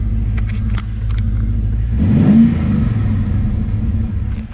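An LS1 V8 engine swapped into a Nissan GU Patrol idles with a steady low rumble, then revs briefly in a mid-clip surge before settling back to a rough idle.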